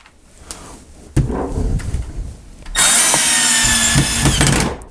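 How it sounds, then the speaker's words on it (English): A Milwaukee M12 screwdriver drives a screw into wood, first with bumps and handling noise, then a loud steady motor whine close up that runs for about two seconds before easing off. "definitely a slightly slower process of getting that screw in there"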